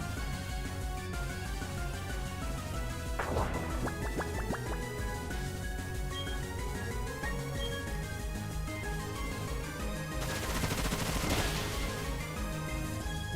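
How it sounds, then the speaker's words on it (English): Pokémon Bullet Seed attack in Brilliant Diamond/Shining Pearl, a rapid burst of sharp repeated popping hits over constant game music, followed later by a louder noisy impact flash. "And now we should be able to bullet seed it."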